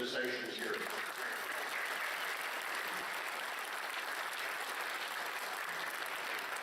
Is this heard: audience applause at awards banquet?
yes